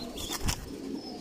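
Belgian-bloodline racing pigeons in a large pigeon loft, a few soft low coos close by, with a light flutter and faint ambient noise.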